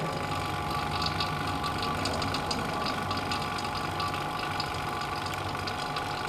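A deep freezer compressor running steadily after a refrigerant gas recharge, a continuous even hum with mechanical whir, close and unchanging throughout with no talk.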